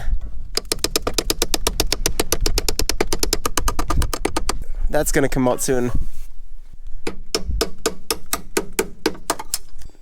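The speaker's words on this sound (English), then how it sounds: "So I've been hammering on it." Rapid, sharp metallic hammer blows ring out in fast repeated bursts on a stuck shifter shaft of a 1964 Corvair, pausing while someone speaks briefly, then the pounding resumes.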